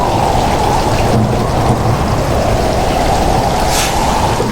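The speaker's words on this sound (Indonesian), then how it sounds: "hujan yang turun" Heavy rain pours in a steady, dense roar while low rumbling thunder rolls beneath it, loud and close throughout.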